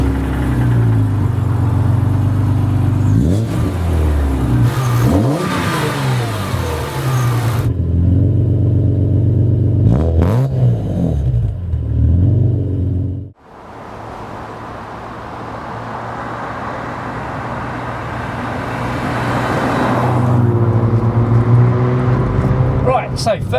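A BMW M3 E36 Evolution drives along with a steady engine drone that rises and falls with gear changes and revs. The sound drops out briefly midway, then builds again with strong acceleration, and a voice talks over part of it.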